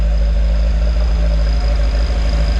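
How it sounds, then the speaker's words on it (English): Toyota 4AGE engine fitted with dual Weber carburetors, still cold and not wanting to idle, rumbles up close with a loud, steady low idle and a faint high whine on top. "It like does not want to idle."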